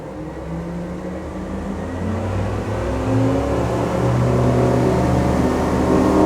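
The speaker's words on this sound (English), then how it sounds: "let's get this boat up and moving" A Jeanneau DB37 motorboat engine revs up steadily, its droning pitch rising and growing louder over several seconds with no talking.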